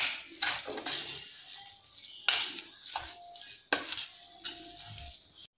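A spoon stirs and scrapes an aloo tikki potato mixture with salt and lemon juice in a metal bowl, several close, distinct sweeping strokes with soft clinks between pauses.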